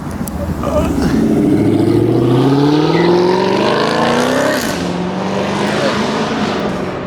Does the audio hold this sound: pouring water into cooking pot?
no